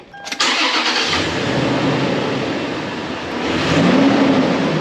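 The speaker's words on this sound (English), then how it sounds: "We're gonna fire the truck up, make sure it all works right." A Toyota 4Runner truck, just revived after a water crossing killed it and its battery reconnected, cranks briefly and then catches. The engine settles into a loud, steady close-up run that swells toward the end, with no talking.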